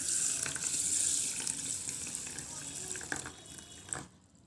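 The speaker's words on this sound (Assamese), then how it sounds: "ইয়াত মই অলপ পানী দি ল'ম তিয়াই থ'ম সৰিয়হখিনি যাতে অলপ কোমল হৈ যায়" Water pours steadily from a tap into a bowl of mustard seeds set aside to soak for a fish dish, a continuous close splashing rush that tapers off near the end.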